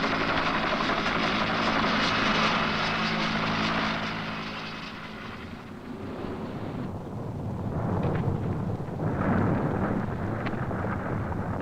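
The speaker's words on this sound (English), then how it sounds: "the Iceland Coast Guard helicopter that skirts them in minutes" An Iceland Coast Guard helicopter flies close by, its loud rotor and engine roar dominating at first, then easing and swelling again as it passes, with no voices.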